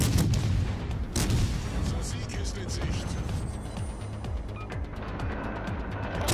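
Naval guns on a Jaguar, a tier 4 destroyer in a ranked video game match, fire at a Japanese destroyer: repeated booming shots and scattered bursts over a steady low rumble, with some talking mixed in.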